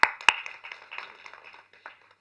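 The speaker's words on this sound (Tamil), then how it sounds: "நானே கைத்தட்டிக்கிறேன்" A man at a film audio launch claps his own hands, two sharp close claps followed by a few fainter scattered claps that fade out.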